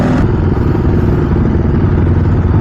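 Four-stroke 450 motorcycle engine running loud and close, a dense, rough mechanical drone with steady clatter and no break, heard while riding through downtown Denver.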